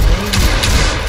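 A grenade goes off in the Fortnite video game: two short, heavy thuds land in quick succession over steady game background noise.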